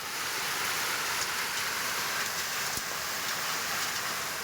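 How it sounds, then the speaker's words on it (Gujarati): Steady rain pours outdoors in Aravalli district during an unseasonal afternoon storm, a dense continuous hiss with no distinct thunder clap, constant in level throughout. "અરવલ્લી જિલ્લામાં ગાજવીજ સાથે બપોર બાદ વરસાદી માહોલ બન્યો છે"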